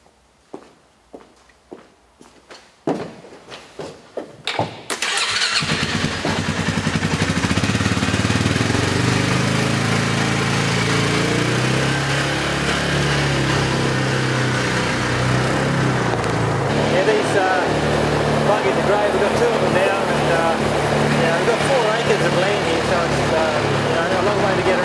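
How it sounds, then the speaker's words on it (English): A buggy's engine turns over in a few sputtering bursts, then catches and settles into a loud, steady rumbling run close by while it is used to tow a camper, with brief talk at the start. "we'll take this camper down with the buggy down to our backyard"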